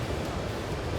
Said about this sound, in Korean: 파도 왔다.